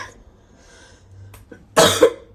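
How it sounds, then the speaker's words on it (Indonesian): A single loud, harsh cough near the end, preceded by quiet breathing and small throat sounds in an otherwise hushed room. "Maafkan saya yang masih batuk ya guys"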